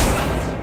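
The Accio summoning spell in Hogwarts Legacy sounds as a brief, loud, dense whooshing burst that thins out at the end, with no speech.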